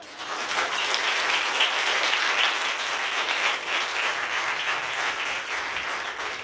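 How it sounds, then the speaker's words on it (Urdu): A church congregation breaks into strong applause during a sermon, a thick, continuous roar of many hands clapping that swells in quickly and holds steady, loud and close, with no voices over it. "تے زور دا تالیاں"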